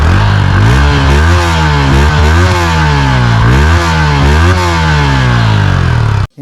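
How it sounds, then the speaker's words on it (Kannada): A Yamaha MT-15 155 cc motorcycle revs up and down repeatedly through its exhaust, loud and close, rising and falling in several sweeping bursts before cutting off abruptly at the end. "ಈ ಗಾಡಿದು ಒಂದ್ಸರಿ ಎಕ್ಸಾಸ್ಟ್ ನೋಟ್ ಕೇಳಿಸ್ಕೊಳ್ಳಿ"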